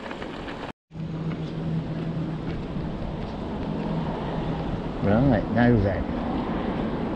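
Wind rushes over the microphone as a rider heads downhill on a main road between Littleborough and Todmorden. It is a loud, steady roar that cuts out briefly near the start, and someone speaks a few words near the end.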